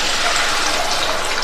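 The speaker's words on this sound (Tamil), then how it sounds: "அடுத்து இதில் தண்ணி சேர்த்துக்கலாம்." Water pours steadily into a cooking pot with a continuous rushing splash for a moment, close by.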